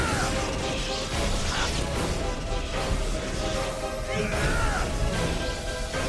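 Calgar smashing a statue in the video game Neverwinter Nights 2, a dense run of crunching impacts and whooshing blows over steady game music and battle noise, with no talk.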